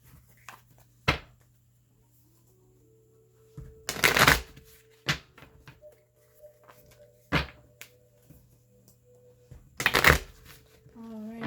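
Psychic Tarot of the Heart cards are shuffled in a few brisk, close riffling bursts, separated by quieter pauses, while a voice speaks softly at times.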